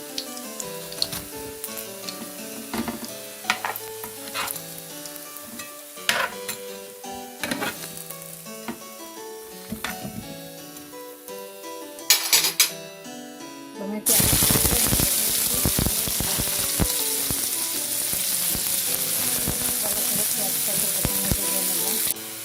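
Chopped onion and potato go into a little oil in a pan, at first with sparse tapping and scraping, then bursting into a loud, dense, continuous sizzle that stays close and steady to the end.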